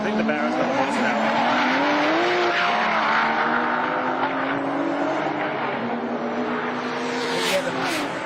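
Time attack race cars, a Barra-powered car racing a Porsche, roar past with sustained rising and falling engine notes and some tire squeal while commentators talk over the sound.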